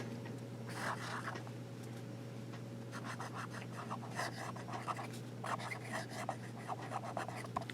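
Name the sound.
medium nib fountain pen squealing while writing on paper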